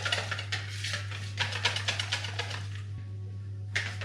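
Salt and black pepper are mixed in a bowl while preparing onion and potato schiacciata, giving a run of quick, light scraping and tapping strokes, fairly close, with a brief pause near the end.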